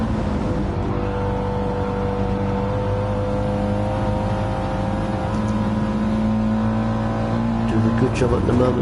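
Audi TT and Mitsubishi race cars in a racing video game: steady, droning engine tones hold at high revs throughout, with a slight pitch rise near the end, under continuous commentary.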